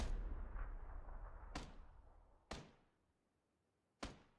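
Grenades in the Apex Legends video game go off as three separate sharp blasts a second or so apart, each with a short fading tail, following a lingering rumble from an earlier explosion.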